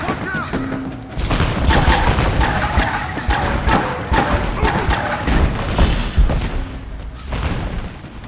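Gunfire in Rise of the Tomb Raider's Baba Yaga DLC: loud, dense volleys of shots and booms crackle almost continuously, with a voice speaking briefly near the start.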